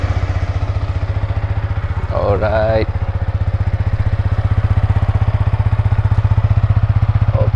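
A Yamaha MT-15 single-cylinder motorcycle engine idles loud and close with a fast, even, pulsing thump. A voice briefly speaks over it.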